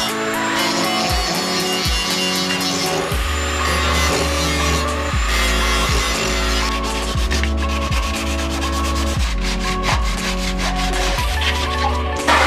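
Body filler being hand-sanded on a Nissan 350Z fender during a vented fender mod, a steady close scraping rub with rhythmic back-and-forth strokes that continues loud and unbroken throughout.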